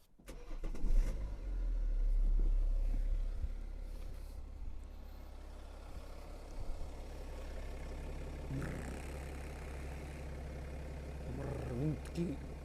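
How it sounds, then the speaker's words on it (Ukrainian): A car engine idles steadily with a low, even rumble, first louder and then settling, while a voice talks faintly over it. "А тепер послухайте секундочку, як цей моторчик просто почав працювати."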